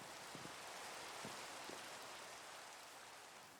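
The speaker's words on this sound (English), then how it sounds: "is this the rain that will provide me my final fill level for the powdered snow?" Steady rain in the Minecraft video game, a dense, even hiss of falling drops with a few faint patters, continuous and fairly quiet with no voices.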